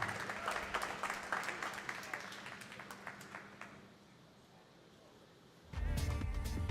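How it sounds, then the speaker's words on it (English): Crowd applause at the Texas Open after an England player's first-round win, scattered clapping that thins and fades over several seconds before a louder, different sound cuts in at the end. "A big round of applause for England's Lucy Beecroft."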